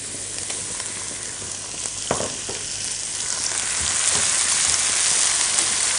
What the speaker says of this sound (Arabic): لا أنا بدي الطماطم برضو تتحمص مع الفلفل